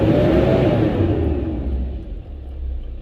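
A Mercedes Sprinter 2.7 five-cylinder diesel van with a lack of power fault revs up in a loud, close rumble that holds, then eases off and settles toward idle.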